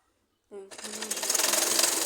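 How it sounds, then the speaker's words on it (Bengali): A sewing machine stitches the lower part of a baby frock, starting abruptly after a brief silence and running as a fast, steady, rattling whir that grows slightly louder. "এবার আমি নিচের অংশটা সেলাই করে নেব"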